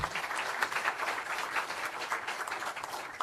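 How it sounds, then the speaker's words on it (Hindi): Clapping from an audience at a political party outreach event in Mumbai, a brief fairly quiet patter of hands with a steady rhythm lasting a few seconds, no voices over it. "तो जोरदार तालियां उनके लिए"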